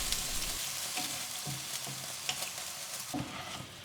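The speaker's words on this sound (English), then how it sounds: "add the other 3 ingredients and simmer under the low heat for around 40 minutes until your meat becomes tender" Pork ribs cooking in sweet and sour sauce give a soft, steady bubbling sizzle with occasional light stirring knocks, fairly quiet and close.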